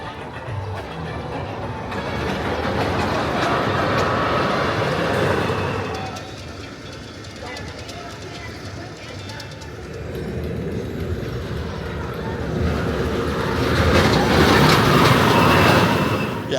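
Mamba, a hyper roller coaster at Worlds of Fun, roars along its track in a loud, rushing wash of wind and rattling wheels that swells, dips and surges again over the ride.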